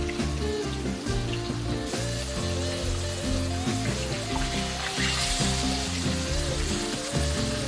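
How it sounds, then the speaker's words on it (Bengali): Katla fish frying in a pan gives a steady sizzle that runs the whole time, partly buried under louder background music. "মাছটা আমি আবারও উল্টিয়ে দিয়েছি, আবারও কিছুক্ষণ ভাজা হচ্ছে।"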